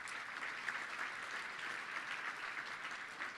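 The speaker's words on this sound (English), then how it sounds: "Let's give our volunteers a big round of applause if we can." An audience at a Little Rock Touchdown Club gathering applauds the volunteers, giving a steady round of clapping from many hands that holds at a fairly even, moderate level throughout, with no speech over it.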